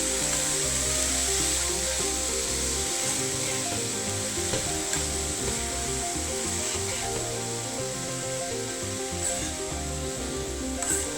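Banana blossom stir-fry (thoran) being stirred in a pan after salt goes in: a loud, steady sizzle fills the clip, with a spoon scraping and turning the shredded blossom throughout and no voices.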